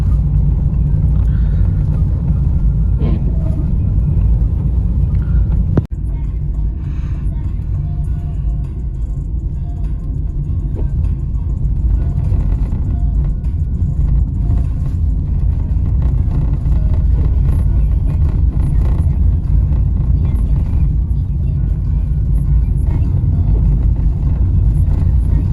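Honda Fit 2019 with a 1.3 engine driving on an icy road, a steady low road and engine rumble with a loud broadband drone throughout, close and continuous, and a brief thump near the start.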